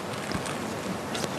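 Wind gusts across an open golf course during the final round of a women's professional championship, a loud rushing buffet on the microphone that swells and eases.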